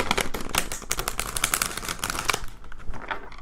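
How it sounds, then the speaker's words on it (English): A tarot card deck is shuffled by hand. The cards give rapid, dense riffling and crisp snapping, steady and close, and ease off near the end. "So hard to shuffle this deck."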